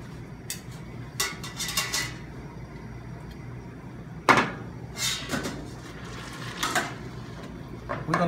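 Drained tagliolini pasta is tossed in a pan, giving a series of scraping clatters and metallic knocks at irregular intervals with quiet pauses between them.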